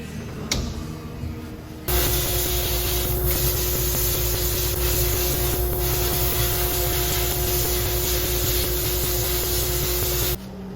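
Parts of a Coleman Model 220 lantern are sandblasted, with the pump section kept free of sand and abrasive. A loud, steady hiss of blasting air and grit roars continuously for about eight seconds, starting and stopping abruptly.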